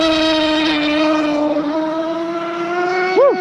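Nitro RC hydroplane boat engine running steadily at quarter throttle, a loud, buzzing high-pitched drone with a quick rev rise near the end.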